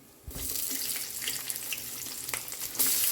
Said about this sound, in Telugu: పప్పులు ఫ్రై అయినాయి ఉల్లిగడ్డ వేసుకుందాం